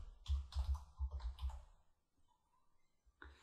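Quick bursts of close keystrokes on a computer keyboard, a rapid cluster of clicks followed by a pause and a few scattered taps, with no talking.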